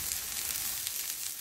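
A tempering of spices sizzles in hot oil in a pan for carrot fry, a brief, even hiss heard close up and on its own.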